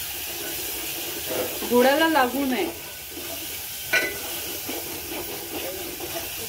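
Masala frying in oil for Marathi-style mung dal golyachi bhaji as a little water is poured in, giving a steady soft sizzling hiss under a voice talking throughout.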